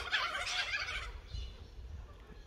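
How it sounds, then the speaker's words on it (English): Busy bird chatter fills the first second, a dense cluster of high calls like fowl gobbling nearby, then fades under a low background rumble. "Those noisy birds."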